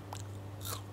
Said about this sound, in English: you know you did a good job when your fries sound like this